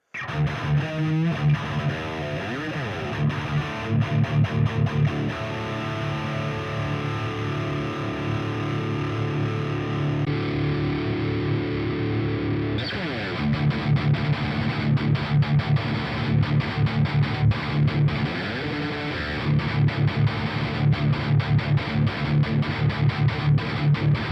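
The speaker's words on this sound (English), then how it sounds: "If we plug a Mesa 4x12, we turn it into a chug monster." Heavily distorted electric guitar from a Tonex One through a Mesa 4x12 cabinet plays chunky palm-muted riffs, tight chugging rhythms with sustained chords in between, loud and close.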